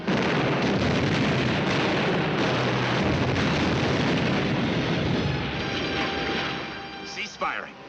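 Heavy artillery and machine-gun fire in a war battle scene, a dense continuous roar of blasts and gunfire that thins toward the end, with shouted voices over it.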